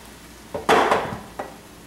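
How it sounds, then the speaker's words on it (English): White wine poured into a hot pan to deglaze it gives a short sizzling hiss with a few clanks of a utensil against the pan. "we're going to use a 1/4 cup of white wine to deglaze the bottom of the pan"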